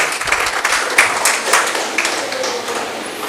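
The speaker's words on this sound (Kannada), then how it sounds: "ಚಪ್ಪಾಳೆ ಮೂಲಕ ಎಲ್ಲರೂ ಅನುಮೋದಿಸ್ಬೋದು" Applause from members at an annual general meeting of a multipurpose cooperative society, a steady dense clapping of many hands with a few sharper individual claps standing out, filling the room without speech.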